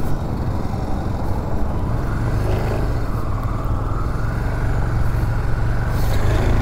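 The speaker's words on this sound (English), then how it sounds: "Bikes in neutral, starting up." Motorcycles pull away into hot city traffic in Kochi, India, a continuous close engine drone with a gradual rising pitch as they get under way, surrounded by a dense traffic hum.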